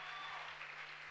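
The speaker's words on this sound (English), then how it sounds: "Clap your hands for Jesus." A congregation claps for Jesus at a healing service, a faint, even wash of applause heard from a distance with no voices.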